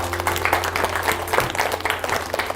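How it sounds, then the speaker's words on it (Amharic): Audience applause: a dense, even patter of many hands clapping throughout, at moderate level, with no talk over it. "በጣም ጎበዝ፣ አጨብጭቡላት"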